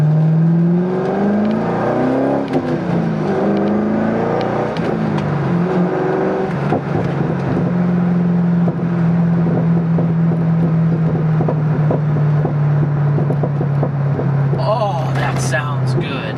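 A Chevrolet Corvette cruises at about 45 to 50 mph on a back country road, its engine a steady, loud drone with gear-like pitch shifts early on, mixed with wind noise throughout.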